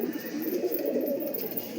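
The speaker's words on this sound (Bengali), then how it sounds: "দুর্দান্ত ট্যাডি পায়রা" Teddy pigeons cooing in a loft, a steady low murmur of soft overlapping coos running throughout at close range with no talk.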